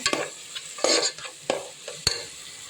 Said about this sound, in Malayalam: കറിയൊക്കെ പകുതി വഴന്നു തുടങ്ങിയിട്ടുണ്ട്